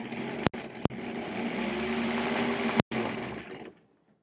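A 1938 Kenmore Model 38 sewing machine runs with a steady, close mechanical whir and hum, cut by a few sharp clicks and a brief break before winding down and stopping near the end.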